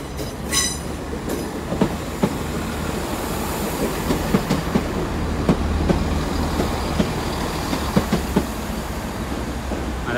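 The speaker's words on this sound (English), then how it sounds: "we got that 165 coming back in" A Class 165 diesel multiple unit pulls into Exeter St Davids station, its steady engine drone and rolling wheels filling the platform with repeated clicks and clanks of rail joints, loud and continuous throughout without voices.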